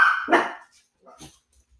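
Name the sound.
dogs barking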